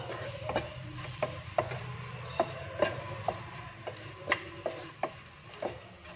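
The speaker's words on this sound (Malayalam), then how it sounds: "നന്നായിട്ട് മിക്സ് ചെയ്യാം ഈ പൊടികളുടെയൊക്കെ പച്ച മണമൊന്ന് മാറട്ടെ അതുവരെ നമുക്ക് വഴറ്റി കൊടുക്കാം" Spice powders sautéed in a pan for a village-style tomato squid curry, with a spoon scraping and stirring in a steady rhythm of about a dozen distinct strokes over a soft, low background sizzle.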